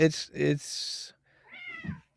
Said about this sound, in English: and that was my cat, Your Wawa